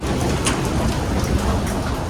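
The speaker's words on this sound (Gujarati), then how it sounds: "સવારનો વરસાદ ચાલુ છે" Steady morning rain falls continuously in Lonavala, Maharashtra, a dense wash of hiss and patter with occasional louder drops, no voices.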